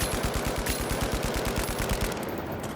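Rapid automatic weapon fire in the video game The Finals, a fast steady burst of close, sharp shots lasting a couple of seconds before tapering off.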